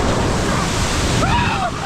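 Strong ocean waves crash on a beach with a rough current, a loud continuous roar of surf dominating throughout, with faint voice-like traces late in the clip.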